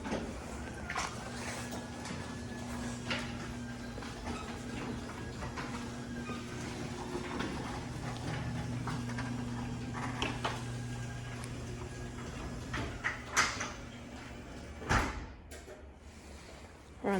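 An older residential garage door in freezing Michigan weather runs back down, a steady motor drone with a rattling hum for many seconds, then a thud as it closes and the noise drops away.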